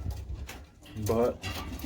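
Pigeons from a breeding pair coo softly in a short burst, faint and close, under a brief spoken word.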